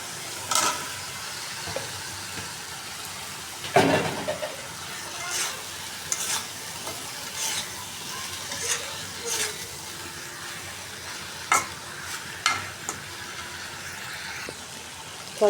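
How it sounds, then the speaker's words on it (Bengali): Spice masala for a pabda fish curry is stirred and fried in a pan, giving a low steady sizzle broken by repeated spoon scrapes and clatters at irregular intervals, close and moderately quiet without speech. "ওই যে পাবদা মাছের জন্য মশলা কষাই নিতেছি"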